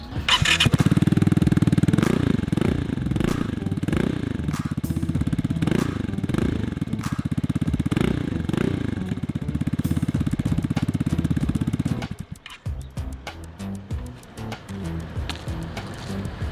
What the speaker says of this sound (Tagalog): Sound check, Vamos warm exhaust.